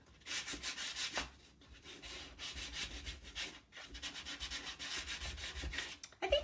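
Sandpaper sanding a handmade birch tree craft, a steady broadband rubbing in repeated close strokes with short pauses between passes, loud and continuous with no talking.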